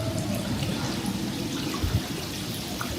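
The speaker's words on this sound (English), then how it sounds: "I love the sound of just water dripping." Water trickles and drips steadily at a resort pool on Phú Quốc, a soft, continuous wash of splashing and dribbling with faint outdoor ambience and no voices.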